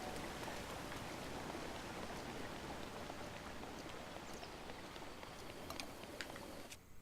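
Rain in The Legend of Zelda: Breath of the Wild in the Akkala region, a steady, soft hiss of falling rain with scattered patter of drops, continuous and even, with no talk heard.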